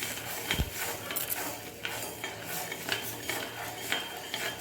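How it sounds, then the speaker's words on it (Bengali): A spoon stirs sugar and water in a pot, scraping and clinking softly against the metal in a continuous, irregular rhythm over a steady background hiss. "এবার চিনিটাকে ভালো করে নেড়ে দিচ্ছি যাতে একদম ভালোভাবে চিনিটা গলে যায়"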